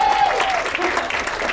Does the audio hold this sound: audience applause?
yes